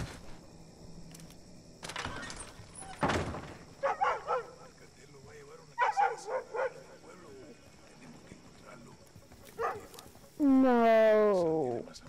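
Dogs bark and yip in a Call of Duty Modern Warfare II game scene, short scattered bursts at a moderate distance. They end in a loud, rising whimpering howl, with brief speech in between.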